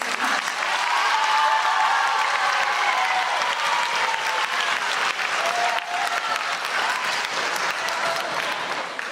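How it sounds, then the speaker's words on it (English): Steady audience applause at a middle school spring orchestra concert, a full room of clapping hands sustained for several seconds at even strength, with faint cheering mixed in. "let's have a round of applause for Rob"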